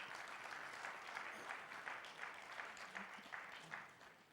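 At the R Bharat Sangam 2024 event, a seated audience applauds Arnab Goswami, a soft, distant, steady rush of many hands clapping that tapers slightly toward the end.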